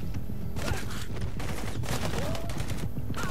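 Sustained automatic rifle fire in the video game Blue Estate, dense rapid bursts with brief pauses between volleys, loud and close, accompanied by whooshing game effects.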